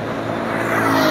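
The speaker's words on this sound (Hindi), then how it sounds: "क्या क्या टू व्हीलर है, बहुत ही फास्ट चलाते हैं भाई ये" Two-wheelers and other traffic on a Kuala Lumpur road produce a loud, close, continuous engine roar that rises slightly over a brief moment.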